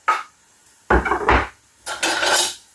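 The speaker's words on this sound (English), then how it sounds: "Give it a little stir around with a wooden spoon to mix everything up together." Wooden spoon stirring minestrone soup ingredients in a pot in a home kitchen, with three scraping, clattering bursts separated by short pauses, close and fairly loud.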